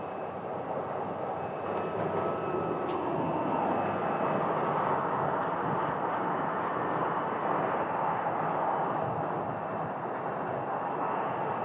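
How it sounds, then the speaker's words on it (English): A Gulfstream G600 business jet landing on the north side at Phoenix Sky Harbor, a steady, broad engine roar that holds at a constant level for about twelve seconds with no talk. "And there is a Gulfstream G600 that's going to be landing here on the north side."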